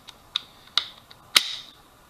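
Bolt of a Mosin Nagant rifle rotating: four or five small, sharp metallic clicks at uneven intervals, close and fairly quiet, with the last click the loudest and followed by a brief scraping ring.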